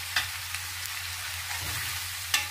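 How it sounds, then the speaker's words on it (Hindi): Onions frying with an onion, garlic and ginger paste in a pan until golden, giving a steady close sizzle with a few soft stirring knocks, the last one sharper; no talk. "प्याज को गोल्डन कलर आने तक भूनने दीजिएगा।"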